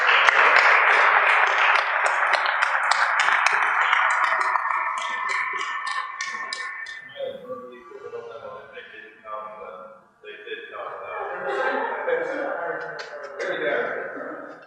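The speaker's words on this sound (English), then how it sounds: "give these guys a round of applause" Audience applause for PGA and LPGA golf pros at an evening event, a dense burst of clapping that starts loud and gradually thins over about fifteen seconds, with some voices mixed in.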